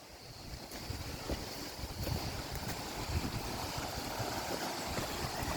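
Steady broadband rush of flowing water near a waterfall, continuous and fairly distant, mixed with wind buffeting the microphone, with no talking.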